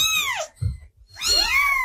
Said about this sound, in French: ça c'est un cri de détresse ou d'appel